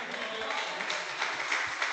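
Congregation applauding during a church communion service, a steady dense wash of clapping filling the room with brief voices underneath.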